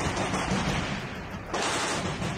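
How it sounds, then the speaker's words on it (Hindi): Dense, continuous rapid gunfire from a Russian soldier firing back during fighting at the Azovstal steel plant, loud and harsh, with a brief dip midway before the rattle resumes. "रूस के सैनिक ने सामने से हो रही फायरिंग का जवाब देने के लिए ताबड़तोड़ गोलियां चला दी।"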